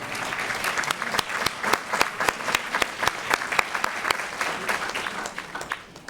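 An audience at an OCPS District 5 Black History recognition and celebration applauds the Oak Ridge High School Orchestra, steady close clapping from many hands with sharper individual claps standing out, no voices over it.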